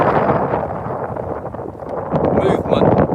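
Strong gusts buffet an outdoor microphone in a loud, continuous rumbling roar with no letup.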